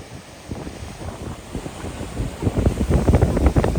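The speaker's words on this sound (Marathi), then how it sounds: "आता बघा पाण्याची लाट बघा फक्त बघा" Sea waves break on the Konkan coast in rumbling surges that build and grow louder toward the end, mixed with strong wind buffeting the microphone.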